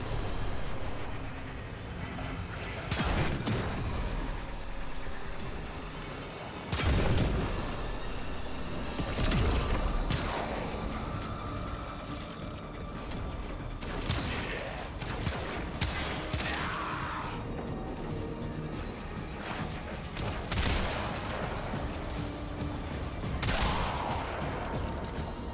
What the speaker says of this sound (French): Un fusil à pompe, on dirait.